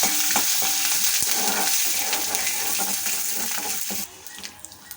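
Ginger shavings and curry leaves being stirred in hot oil while tempering for a ridge gourd and peanut dish, giving a steady close sizzle with scraping stirs that drops away sharply near the end.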